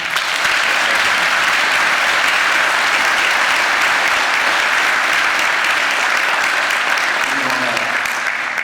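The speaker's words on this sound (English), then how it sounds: "Please give them a round of applause." Sustained audience applause for a school journalism team at an event, dense and steady clapping throughout at close range, with faint voices underneath toward the end.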